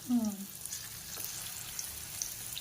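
A slice of large eggplant fries in hot oil on a tawa, a soft, even sizzle heard after a brief voice at the start.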